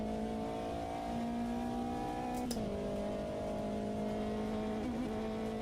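Steady looping car engine note at high RPM in the Automobilista 2 racing simulator, a sustained buzzing tone with a short pitch dip and wobble as the sound file loops, fairly faint and without speech.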